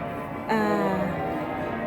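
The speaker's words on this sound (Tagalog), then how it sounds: "Narinig niyo yung yung bell." Church bell of York Minster, heard from a pub carpark in York, a single ringing tone with a lingering hum, moderately loud over low background noise.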